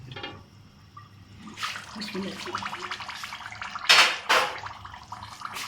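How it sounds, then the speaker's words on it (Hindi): Boiled rice and its water poured from the pot into a colander, a rushing, splashing pour that swells into two louder surges near the end, close by, with a voice speaking over it. "चावल हमारे बॉईल हो चुके हैं, इसको छलनी में डाल देते हैं"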